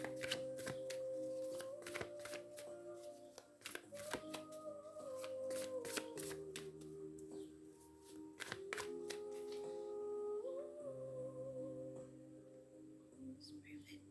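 Tarot cards being shuffled by hand, close and quiet, in repeated crisp riffling bursts and soft slides, with a steady sustained musical drone underneath.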